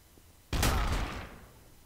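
A single loud gunshot bursts out of near silence in a Garry's Mod Trouble in Terrorist Town round, with a sharp attack and a short rumbling tail that fades over about a second.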